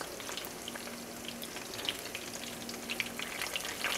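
Cardoon pieces fry in vegetable oil, giving a steady close sizzle with scattered bright crackles and spits throughout, with no one talking.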